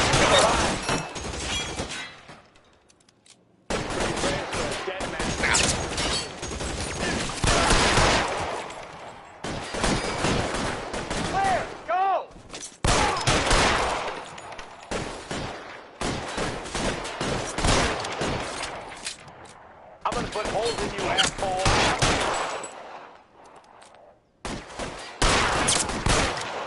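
Gunfire crackles through a shootout in L.A. Noire, with repeated bursts and volleys of shots filling most of the stretch, broken by a few short quiet gaps, loud and close.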